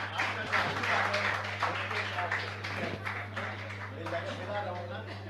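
An audience at a Jain religious discourse gathering claps in a steady patter of overlapping hand claps, moderately loud over a constant electrical hum, with some voices underneath.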